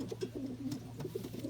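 Pigeon cooing softly in a loft, a run of low, throaty rolling coos repeated in quick succession at close range.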